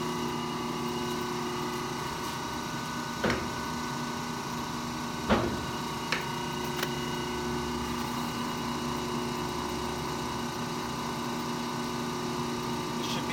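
A large Monarch engine lathe running at slow speed, a steady humming drone with a few sharp clicks and knocks, heard close with no talking over it.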